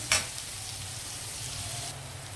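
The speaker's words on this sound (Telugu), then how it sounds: "కొంచెం కలర్ మారే వరకు వేగనిద్దామండి ఉల్లిపాయలు" Onions fry in hot oil with a steady, close hiss of sizzling, a brief sharp crackle or stir at the start, and no talk.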